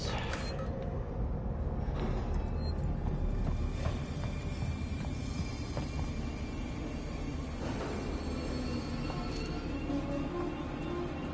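A tram glides along rails in the sci-fi game Alien: Isolation, a continuous low rumble and rolling drone with faint metallic whines, steady and fairly loud throughout with no talking.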